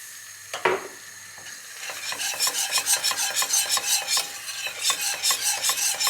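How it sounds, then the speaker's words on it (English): A batter of flour and beer is whisked in a bowl to keep it from going lumpy, giving close, steady rhythmic scraping strokes that settle into a regular beat for most of the clip, with no talking. "we've got to keep whisking it because we don't want it to go lumpy"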